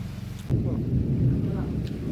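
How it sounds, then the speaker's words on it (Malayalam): Thunder from a rainstorm breaks in suddenly as a deep, loud rumble that rolls on steadily for over a second and a half, with no voices. "ഇടി വെട്ടുന്ന സൗണ്ടൊക്കെ കേട്ടോ ഗൈസ് ഭയങ്കര ഇടിയൊക്കെ വെട്ടുന്ന കേട്ടോ"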